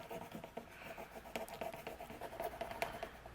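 Back of an adhesive lifter tool rubbed firmly over a card-making background to burnish it, giving close, quiet, continuous scratchy strokes with short rhythmic pushes.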